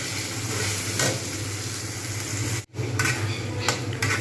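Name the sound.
frying tomato and spice masala in oil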